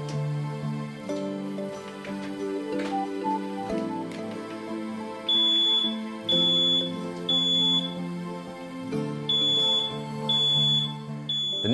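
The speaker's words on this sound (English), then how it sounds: "The first product we will look at is the smoke alarm." A toastproof home smoke alarm sounds in repeated bursts of shrill high-pitched beeping over a lower droning tone, loud and close, with no voices.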